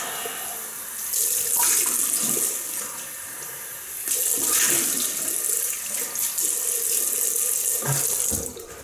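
Tap water runs steadily into a sink as a razor is rinsed after a shave with a 1960s Gillette Fat Boy, with brief surges and splashes over about nine seconds and no talking.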